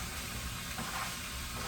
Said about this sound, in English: I have a little bit of a sizzle going on there, right?